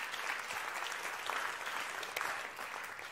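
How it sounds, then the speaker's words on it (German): Sustained audience applause at an awards ceremony for a deep tech prize, dense even clapping from a crowd filling the whole stretch at steady loudness. "Nochmal einen großen Applaus für Stefan Schwarz."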